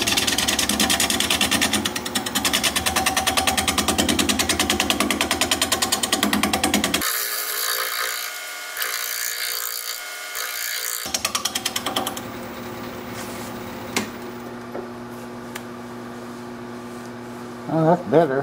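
A scraper cuts a spinning red cedar log on a wood lathe, a close, loud, rapid chattering rasp that stops partway, then lighter scraping and tapping.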